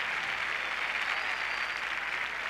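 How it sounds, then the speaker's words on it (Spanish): At the Viña del Mar festival in 1991, a large crowd applauds comedian Juan Carlos Meléndez with a brief, steady roar of clapping that holds level without any talk over it. "El aplauso grande para Juan Carlos Meléndez"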